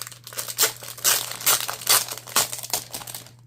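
A sheet being cut and pulled from a pack of designer series paper for a Halloween craft: close, rhythmic rustling and crinkling bursts, about one every half second, with no one talking.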